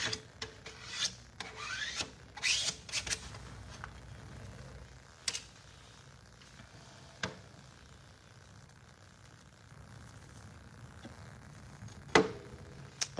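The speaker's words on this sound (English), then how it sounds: "it's kind of a two-part action. I spread it and then I scrape it." A tool spreads and scrapes a wet textured dimensional finish over a dark painted surface, giving soft continuous rasping rubs broken by several sharper scrape strokes, close and moderately quiet with no talking.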